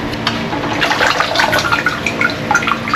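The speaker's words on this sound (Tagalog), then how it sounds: "Tapos banlian lang natin ng mainit na tubig tong ating mike." Hot water poured over mami noodles to rinse them, a loud splashing, gurgling flow close by that runs continuously with small bursts of spatter, no voices.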